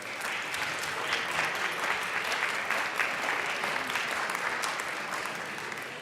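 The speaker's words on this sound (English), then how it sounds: "if we could give them a round of applause" A round of applause fills a state legislative chamber at the Colorado House. Dense, sustained clapping from a crowd continues evenly throughout, loud and close, with no speech on top.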